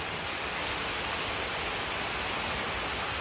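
Steady rain falls without a break, a dense, even hiss from start to finish with no talk.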